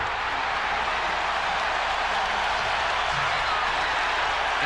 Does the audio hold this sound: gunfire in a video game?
no